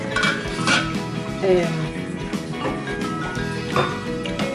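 Thick, stew-like soup is ladled from a cooking pot, with repeated metal clinks and scrapes of dishes and cutlery at close range.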